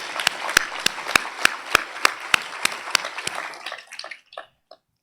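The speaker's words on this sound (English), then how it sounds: "give her an applause" An audience at a spiritual congress gives about a dozen sharp, evenly spaced claps together. The rhythm is strong and close, then breaks apart into a few scattered claps that trail off into quiet.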